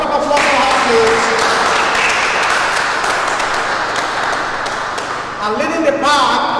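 An audience breaks into applause, a broad, steady patter of many hands clapping, while a voice and music sit faintly underneath and a voice rises again near the end.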